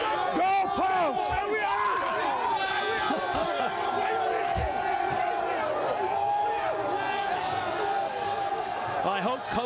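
Football stadium crowd at Wyoming cheering after a win over Boise State, a loud sustained roar with shouts and whoops, voices of individual fans rising over the general din.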